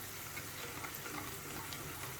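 Chana dal hitting hot oil in a pan for South Indian tomato pickle gives off a faint, steady sizzle and crackle, quiet and close, with no voices.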